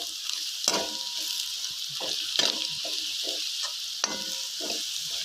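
Onions sizzle and fry steadily in a pan, with occasional stirring scrapes and clinks standing out over the constant hiss; no voices.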